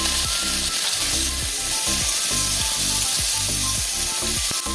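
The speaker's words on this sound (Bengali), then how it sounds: "লঙ্কা ও পেঁয়াজগুলো আমি তিন মিনিট মতো ভেজে নেব" Chopped green chillies and onion fry in a pan for a bottle gourd and prawn curry, a continuous close sizzle overlaid with a brisk, regular rhythm of spatula strokes scraping the pan.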